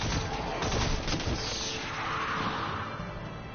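Shotgun fire in a video game, a dense run of loud, booming blasts and crashing impacts packed together with little pause, dominating the mix over game background noise.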